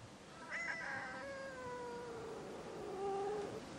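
A cat out on a walk gives a drawn-out, wavering meow, then after a pause a second, lower complaining meow. Both are fairly faint and sound over quiet outdoor background noise.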